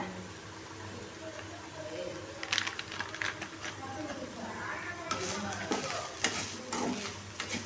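Coriander powder roasts in a pan, with a soft sizzle and scraping stirs that grow busier partway through, heard up close and fairly quiet.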